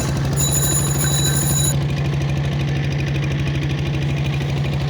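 A boat's engine drones and knocks steadily, loud and close, on the Karnaphuli river near Chittagong, with a high ringing whine over the chugging for the first part.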